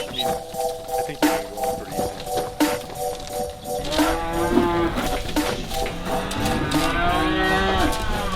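Cattle moo loudly and repeatedly outdoors, with several drawn-out, overlapping low calls from more than one animal close by, one after another over a steady background, and a faint voice now and then.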